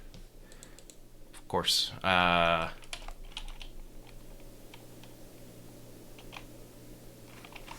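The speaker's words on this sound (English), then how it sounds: "you can just type in your domain, click add" Someone types a domain name on a computer keyboard, the soft key taps faint and scattered throughout, briefly drowned out by a short burst of a person speaking near the start.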